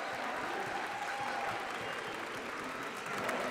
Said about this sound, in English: Let's get one more round of applause for our first World's finalist